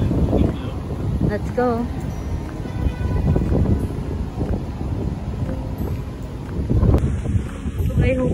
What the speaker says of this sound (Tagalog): It's a super windy day.